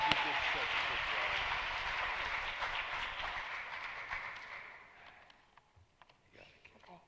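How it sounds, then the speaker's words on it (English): Audience applause at a school commencement ceremony for a graduating student, steady dense clapping for about five seconds before fading into quieter room sound with faint voices. "Let's have a round of applause for my best friend, Amaya Kanaha."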